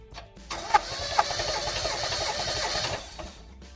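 A 1978 Toyota Corolla engine cranks on the starter for about two and a half seconds. The steady, whirring churn has a couple of sharper knocks early on, then cuts off into quiet.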